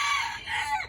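Chicken clucking and crowing-like calls in a short burst, fairly loud and close, with a low background rumble and no talk.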